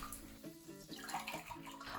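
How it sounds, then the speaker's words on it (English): A bathtub holding warm water with vinegar and dish soap for soaking dirty shelves; water splashes and churns steadily for about two seconds, close and moderately loud, with no talk. "My shelves are very dirty, so I will soak them in the bath to soften the dirt."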